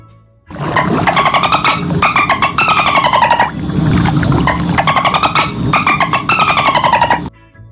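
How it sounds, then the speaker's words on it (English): Dolphins chatter in rapid bursts of buzzing clicks and whistles, loud and close, repeating in clusters with brief pauses between them, with no voices. "Dolphin,"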